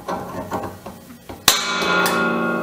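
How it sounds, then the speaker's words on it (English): A spring-loaded center punch fires against a steel flange during a campfire pizza oven build, giving one sharp metallic snap midway with a short ringing tail. Softer handling knocks come before it. "I'll start with a spring-loaded center punch, get it right in the right spot."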